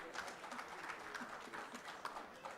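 Audience applause at a medical association presidential installation ceremony in a hotel function hall: a faint, steady wash of many hands clapping that keeps going for the whole stretch without a break.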